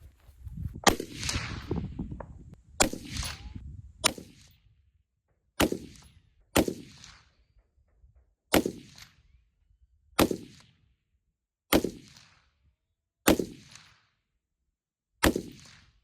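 Ten sharp rifle shots from an AR-15 firing PMC 62 grain green tip 5.56 ammunition, spaced about 1.5 seconds apart outdoors, each loud crack followed by a short decaying echo, with quiet gaps between and no talking.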